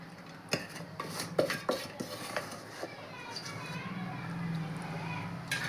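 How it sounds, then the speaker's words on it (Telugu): Dry cooked rice being mixed with a spoon in a pot while making ghee jaggery rice. Close clinks and scrapes of the spoon against the metal pot come in a few sharp knocks early, then a softer continuous stir, with a faint voice in the background. "బాగా ఒకసారి కలుపుతాను."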